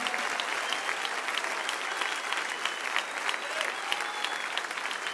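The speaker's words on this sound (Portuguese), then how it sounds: "vamos aplaudir forte" Sustained, vigorous applause fills a church service as the congregation claps hard together, a continuous crowd roar of hands with faint voices threaded through.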